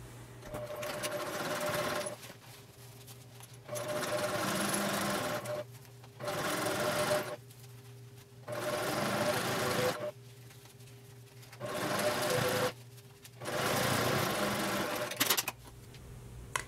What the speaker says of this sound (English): So you're gonna be stitching a quarter of an inch away from the seam that we just made.